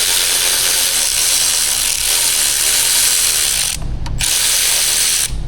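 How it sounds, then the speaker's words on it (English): A ratchet wrench clicks rapidly and steadily while loosening engine mount bolts on a Chevy Cruze 1.4, a close, loud, continuous mechanical chatter with a brief pause near the end. "So let's snap those front bolts out."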